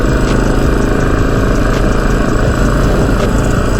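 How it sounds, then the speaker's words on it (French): A Yamaha XT 400 Paris Dakar motorcycle engine runs at a steady idle, a loud, continuous vibrating thrum with a fine rapid pulse and no voices. "cette moto qui roule parfaitement, donc ça vibre, ça chante"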